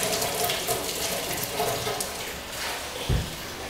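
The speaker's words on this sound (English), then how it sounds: "Thank God for running water." Tap water runs steadily as hands are rinsed in a pottery studio during glaze work, a continuous close hiss with a brief splashing thump near the end.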